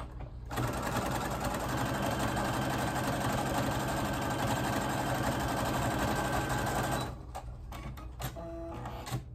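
A sewing machine back stitches a fabric face mask in one continuous, loud mechanical whir lasting about seven seconds, then stops, leaving only quieter handling sounds.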